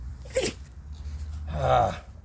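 Someone sneezes twice in quick succession outdoors near a banana plantation, each a sharp burst of breath, fairly close and moderately loud over low background noise.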